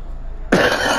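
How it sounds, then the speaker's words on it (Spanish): A single sharp cough in the Man of Medan horror video game, close and loud, bursting suddenly out of near silence and trailing into a rough breathy tail. "Y la tosecita esta"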